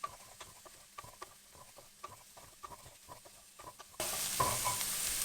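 Boiled cauliflower tumbled into a pan with smoked paprika for a ginger-garlic cauliflower dish, giving a series of light scraping stirs and soft clatters, then a steady louder sizzle in the final second.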